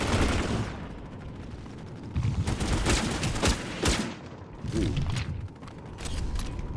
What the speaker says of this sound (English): And now to use my elevated position to shoot enemy.